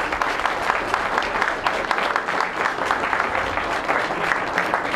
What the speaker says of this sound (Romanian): Este un motiv să le aplaudăm încă o dată și să le mulțumim.